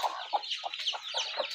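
A brooding hen sits with chicks beginning to hatch, giving a quick run of about eight soft, close clucks in an even rhythm.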